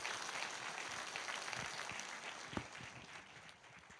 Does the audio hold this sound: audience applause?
yes